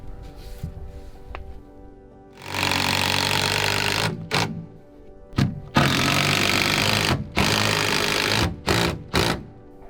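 A power driver sinks timber framing screws into wooden posts and angle braces on a cottage frame, loud close whirring bursts of a few seconds each, starting and stopping repeatedly with short pauses between.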